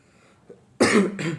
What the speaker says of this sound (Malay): Kalau ada batuk-batuk tu minta maaf lah